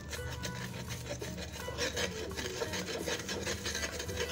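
Fish seasoning of salt, tamarind, galangal and turmeric being ground with a mortar and pestle, giving close, continuous rubbing and scraping strokes at a quiet, even level with no talk.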